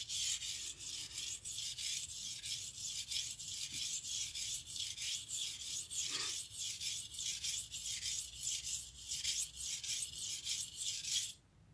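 Curved, acutely angled blade ground against a sharpening stone, a steady rhythmic rasping of repeated strokes, close and fairly loud, with no talk, ending abruptly.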